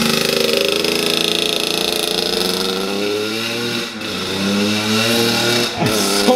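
A small pit bike engine idles and revs with a buzzy, rattling drone, close and loud, dipping briefly twice before picking up again.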